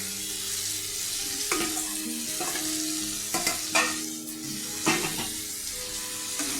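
Green jackfruit is stir-fried in a spice paste, giving a continuous loud sizzle broken by repeated scraping strokes of a spoon against the pan at a steady rhythm, with no voices.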